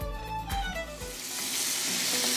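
Abalone frying in butter in a hot pan, a steady close sizzle that swells and holds throughout while a faint tonal background fades out.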